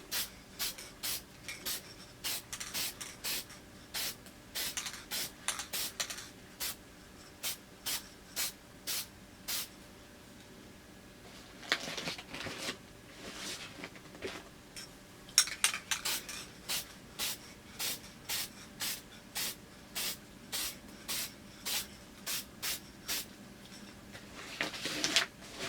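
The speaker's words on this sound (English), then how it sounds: "shake up your spray. And then once you got it all shaken up, you're going to just apply a light coat." Short hissing bursts of aerosol spray paint laid down in a light coat on patent leather Jordan XI sneakers, a rapid series of close, evenly spaced sprays with a brief pause before a second run.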